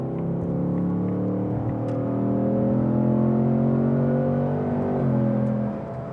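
A 2024 Ford Mustang S650 GT in track exhaust and sport mode accelerating hard on a highway, its engine droning and rising steadily in pitch from inside the cabin, with a brief dip around a shift before climbing again.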